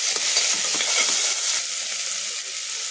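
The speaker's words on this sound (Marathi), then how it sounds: "आपण परतून घेऊ।" Chopped potato, curry leaves, carrot and onion sauté in hot oil in a pan for veg pulao, a steady loud sizzle with small crackles throughout, easing slightly after the first half.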